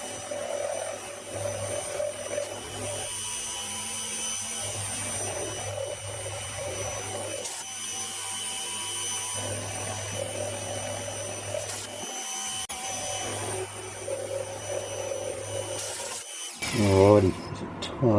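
A metal lathe taking shallow 0.25 depth cuts while making a shopmade travel steady, a steady machine hum and scraping cut sound that runs on and off, with a brief louder rattle near the end.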